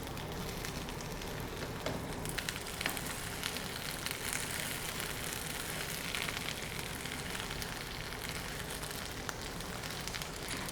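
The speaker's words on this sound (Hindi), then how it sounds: "भिंडी को इतना फ्राई करना है कि इसका कलर लाइट ब्राउन हो जाए।" Okra (bhindi) sizzles in hot oil in a pan, a steady, soft crackling fry that carries on evenly without a break and with no talking.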